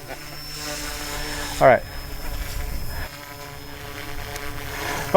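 A GOOSKY Legend S2 RC helicopter spins up and flies, a steady buzzing rotor and motor whine with layered tones, while someone says a few words partway through.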